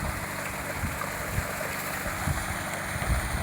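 Water gushing from a 5 HP motor pump on a farm plot, a steady, moderately loud broadband rush with a low mechanical rumble underneath, continuous and unbroken.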